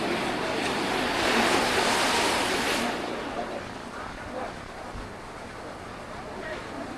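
Sea surf rolling in right beside the Bhadkeshwar Mahadev temple on the coast, a steady broad wash of waves with wind noise, louder for the first few seconds and then easing to a softer continuous roar.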